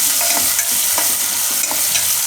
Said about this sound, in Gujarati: ડુંગળી થોડીક વાર તેલમાં ફેરવી લેવું